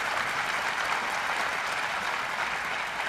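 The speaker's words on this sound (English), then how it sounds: "And the crowd goes wild." An audience at a live product event cheers and applauds a music game demo, a dense, steady wash of clapping with no talking.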